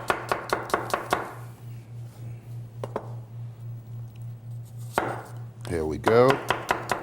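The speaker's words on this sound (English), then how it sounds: "I'm going to go ahead and chop up this apple over here as well" A knife chops through an apple on a board in quick, crisp bursts, a fast run of sharp cuts, a lone stroke, then more rapid chops, close and clear over a steady low hum, with a brief spoken remark.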